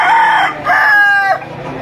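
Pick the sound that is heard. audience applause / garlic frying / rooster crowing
rooster crowing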